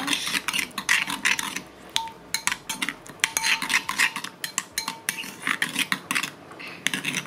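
Cutlery tosses and scrapes through a salad in a bowl after salt and pepper go in, busy rhythmic clinks and rubbing scrapes, close and fairly loud, with no talking.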